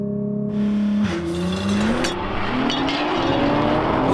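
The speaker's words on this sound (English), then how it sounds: "to launch the GT-R, all I have to do is put all the switches into race mode, gearbox into auto, floor the brake, then floor the throttle and release the brake" A 2017 Nissan GT-R launches hard in race mode, its engine note climbing steadily through the gears with a brief tyre squeal at the start, loud and close with no one talking.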